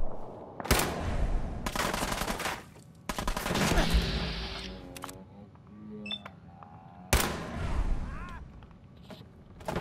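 Several loud, sharp gunshots in Fallout 4, spaced a second or two apart with echoing tails, mixed with game clicks and effects between shots.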